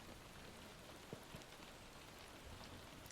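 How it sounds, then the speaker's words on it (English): Soft, steady rain from a rainstorm, a faint continuous patter with a few light drips standing out, playing quietly on its own. "the sound of rain, a rainstorm it helps me relax"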